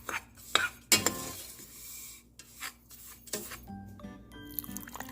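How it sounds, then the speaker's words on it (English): A utensil stirs and scrapes dry brown sugar, cornstarch and salt in a saucepan, with gritty rasping strokes and sharp metallic clinks in irregular bursts, close and quiet. "let's stir this mess up"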